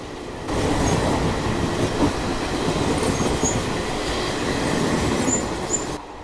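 A train rolls past on the Chennai to Delhi line in hot weather, its steady close rumble and wheel clatter filling about six seconds before cutting off, with no voices.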